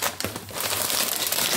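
Paper wrapping from a shopping haul crinkles and rustles continuously up close, loud and dense, with a brief sharper crackle near the start.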